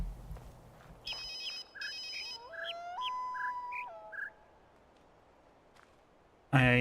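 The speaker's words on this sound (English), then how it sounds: "I am listening for a bird that chirps twice, then squawks once, then chirps once." A bird in the video game The Witness gives a sequence of chirps and a squawk, bright tonal calls spaced across a few seconds over a quiet ambient background.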